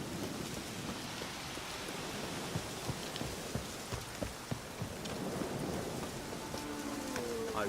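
Steady rain falls in The Witcher 3 game world, a continuous hiss of drops on surfaces with scattered louder splashes and a faint distant rumble, heard alone at low volume.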